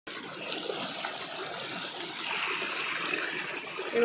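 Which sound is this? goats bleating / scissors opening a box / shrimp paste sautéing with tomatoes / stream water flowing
stream water flowing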